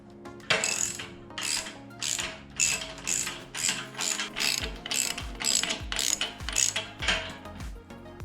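A hand ratchet tightens the nuts on the handlebar risers of a Mega Moto 212 minibike, making about a dozen quick bursts of close, loud clicking strokes with short pauses between them.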